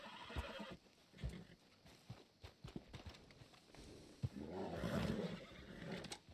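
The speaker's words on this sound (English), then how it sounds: "So you're scaring my horse." A horse in the video game Red Dead Redemption neighs in a loud, drawn-out whinny near the middle, after a stretch of hoof clip-clops and scattered thumps.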